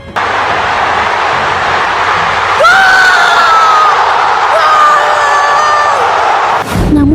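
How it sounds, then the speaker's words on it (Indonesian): Stadium crowd at Estadio Azteca roaring after a Mexico goal in the World Cup opening match against South Africa, a loud sustained wall of cheering with whoops and rising shouts throughout. "Sorak-sorai mengguncang tribun, sementara para pemain Meksiko larut dalam kegembiraan."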